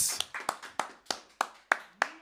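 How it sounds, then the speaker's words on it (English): Clapping at a UK rap panel event, heard as about seven distinct, evenly spaced claps, close and crisp with short decays, more like one person's hands than a full crowd. "Can we get our last virtual round of applause"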